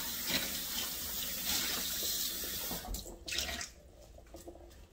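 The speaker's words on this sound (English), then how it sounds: "just rinse it out real good" Tap water runs into a kefir container as it is rinsed in a sink, a steady close rush of splashing for about three seconds before the flow breaks up into a few softer sloshes and drips.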